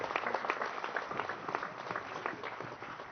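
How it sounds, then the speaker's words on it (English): Steady applause from a large audience at a formal Nigerian Senate power-sector round table, dense overlapping claps sustained at an even level for several seconds with no talk over it. "Another round of applause for His Excellency, the President of the Senate of the Federal Republic of Nigeria"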